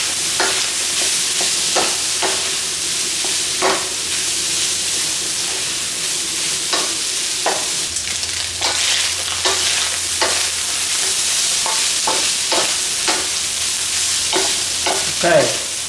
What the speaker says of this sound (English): just gonna brown the ham a little bit before we add in our vegetables